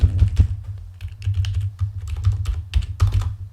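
Fast, irregular clattering of keys on a faulty computer keyboard, close and fairly loud, with dense clicks and a few heavier thumps in a steady burst and no voices.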